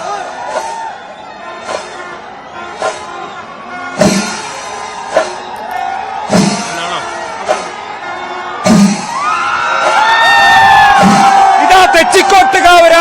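Pooram festival crowd in Thrissur roars as the elephant Thechikottukavu Ramachandran enters through the temple gopuram, with scattered shouts and sharp bursts rising into a loud, sustained cheer by the end.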